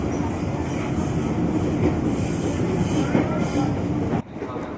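A long 12-car KRL commuter train runs along steadily, a continuous loud rumble of wheels and carriages with faint clatter, recorded from on board, dropping off abruptly near the end.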